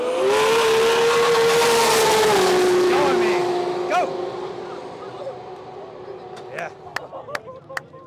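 An 1800HP Nissan R34 GTR races down a drag track with a loud, strained engine roar that shifts and fades into the distance, followed by faint crowd noise and a few sharp knocks.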